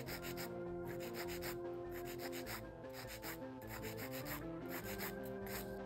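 A nail file rasps back and forth across an acrylic nail extension, straightening the free edge; the steady rubbing strokes sit beneath louder background music.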